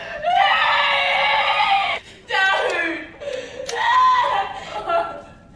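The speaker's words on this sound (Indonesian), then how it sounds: "tanpa sengaja mendengar suara teriakan" A woman screams in terror in long, high, strained wails, breaking off briefly and then starting again, loud and close, with no other voices.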